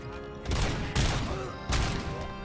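Gunfire in the video game RoboCop: Rogue City comes as three loud, booming blasts roughly half a second apart, each trailing into a rumbling sustain.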